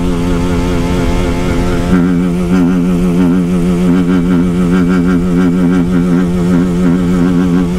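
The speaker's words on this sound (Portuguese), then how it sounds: "Essa moto é ruim de marcha," A BMW 310GS motorcycle descends a mountain road in 12, its single-cylinder engine droning steadily and loud throughout, the note shifting slightly as gears change partway, with no talk over it.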